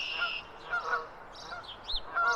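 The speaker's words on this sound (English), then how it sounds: "Yeah, it's geese time." Geese honking during a morning walk in New York weather, several nasal calls in an irregular series of a few honks each, moderately near and clear with no talk.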